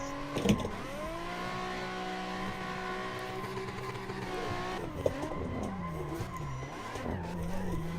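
Nissan 350Z cars tandem drifting at a drift event, with loud, sustained tire squeal and screeching engine tones that hold steady, then waver and break up as the cars slide and spin, heard up close without talk.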